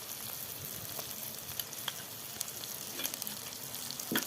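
Ginger paste hits hot oil with garlic and chilli for a masoor dal tarka, giving a continuous close frying sizzle with a few small crackles and pops.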